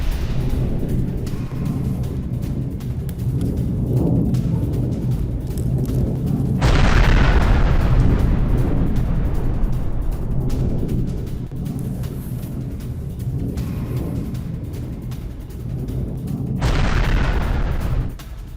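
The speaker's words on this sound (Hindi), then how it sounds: "इधर हिजबुल्लाह के गढ़ में भीषण बमबारी की तस्वीरें हमने आपको दिखाई" Israeli air strike bombardment in Bint Jbeil, Lebanon, sounds as a continuous heavy rumble broken by two loud, sharp explosive blasts several seconds apart, with no voices.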